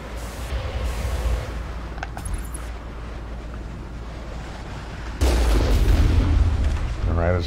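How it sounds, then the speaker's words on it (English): Gunfire in the Mass Effect video game: steady muffled shots and booms roll through a noisy battle, with a louder burst of firing near the end, under a talking voice. "Stop shooting at me, I'm trying to shoot you."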